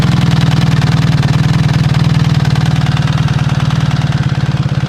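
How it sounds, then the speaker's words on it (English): A BMW R1300 GS motorcycle engine idles warm at a standstill, a steady loud, close, low pulsing throb with no revving heard. "We're going to be doing a sound test when it's warm, revving the engine at a standstill"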